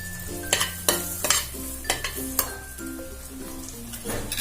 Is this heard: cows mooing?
no